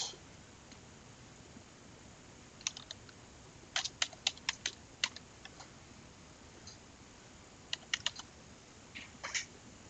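Computer keyboard typing a list name, in short bursts of light clicking keystrokes over a steady low hiss, fairly close and alone.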